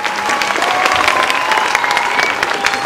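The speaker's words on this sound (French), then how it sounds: "Là, vous pouvez les applaudir très fort" Crowd applause for a school group at a show, steady close clapping throughout with faint cheering mixed in.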